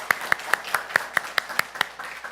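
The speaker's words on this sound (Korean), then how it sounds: "저 누군지는 몰라도 박수는 쳐드려야 될 것 같아요" Church congregation clapping in welcome: about eleven crisp, evenly spaced claps in a steady quick rhythm, moderately loud and close, with no talking.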